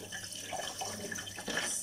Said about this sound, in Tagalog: Ganitong maghugas ng isda